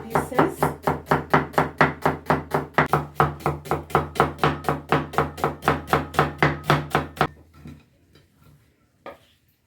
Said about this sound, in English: In this one, I'm using the red onions, so I'll just chop them by smaller pieces.